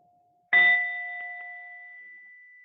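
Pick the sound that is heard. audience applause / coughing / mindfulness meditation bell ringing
mindfulness meditation bell ringing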